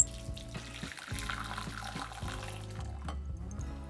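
Cold water pours into a bowl of soaked tamarind for rasam, a steady close trickle and splash with no talk.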